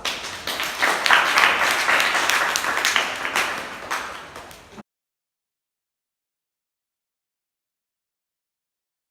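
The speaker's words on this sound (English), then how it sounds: "Once again, let's give them a hand of applause." An audience applauds students after their speeches at a winter training presentation, a full burst of clapping that swells, then tapers and cuts off abruptly, leaving silence.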